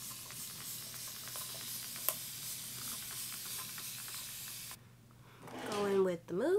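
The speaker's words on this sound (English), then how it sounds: "spray with a lot of water." A spray bottle mists water onto hair in a continuous soft hiss lasting several seconds, close by, before it stops and a person starts talking.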